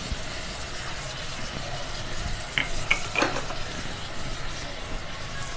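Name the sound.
curry leaves added and stirred into frying onions in electric kettle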